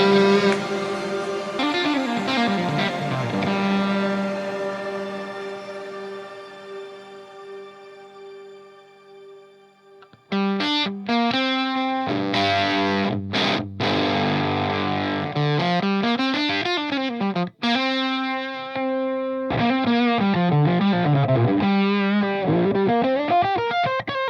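Thick, distorted electric guitar fuzz tones from a Fender Tone Master Pro ring out in sustained chords and swooping bends, with a brief gap midway, no voices.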